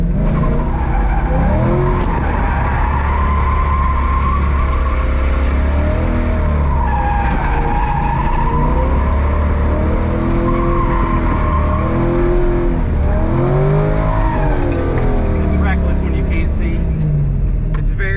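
A C5 or C6 Corvette built as a drift car slides with long, loud tire squeals over a roaring, revving engine, sustained and close throughout with pitch sweeping as the car drifts.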